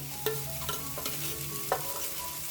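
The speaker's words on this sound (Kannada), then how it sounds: "ಈ ಥರ ನೀಟಾಗಿ ಇದು ಎಣ್ಣೆಯಲ್ಲಿ ಫ್ರೈ ಮಾಡ್ಕೊಳ್ಳೋಣ" Masala frying in hot oil in a pan for a brinjal dish, stirred with a few sharp scraping strokes over a steady low sizzle, close up, with faint background music.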